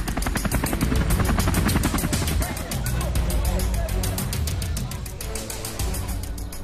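Helicopter rotor chop pulses steadily and loudly throughout, a dense rhythmic thudding from aircraft flying in support of a large manhunt in Washington State, with engine roar filling the background.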